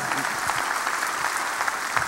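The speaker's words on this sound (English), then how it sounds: "It's okay to clap." A church congregation claps steadily, a dense, moderately loud ripple of many hands filling the room, with faint voices mixed under it.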